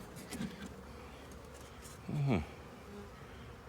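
Bees buzz around a new beehive, faint scattered drones of individual insects flying past, with one louder close pass in the middle and a brief spoken word early on.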